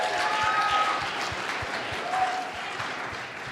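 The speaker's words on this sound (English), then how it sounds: "another huge round of applause for Miss Cromwell as well as the English department" A school Poetry Out Loud finals audience claps in sustained, even applause that stays loud throughout, with no voices over it.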